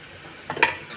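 A spoon stirs masala frying in a pan, giving a brief scrape and clink of the utensil against the metal over a soft, steady sizzle.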